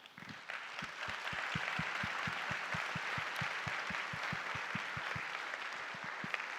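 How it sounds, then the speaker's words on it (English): An audience at the closing ceremony of a nature summit claps in a steady, rhythmic unison beat, moderately loud and sustained throughout with no voices over it. "So give yourself a big applause."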